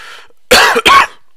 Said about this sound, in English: Apologise for the cough, should stop smoking